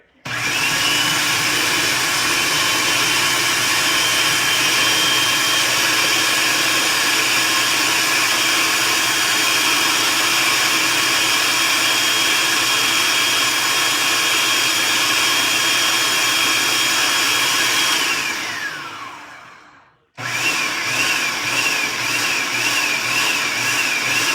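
A food processor purees an avocado lime dressing in a long, loud, steady whir that stops sharply near the end and then starts again.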